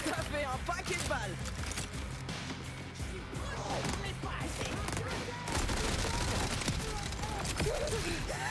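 Rapid bursts of gunfire and mechanical clatter from the video game Borderlands 4, dense and continuous through the stretch, with a player's voice talking over the shooting.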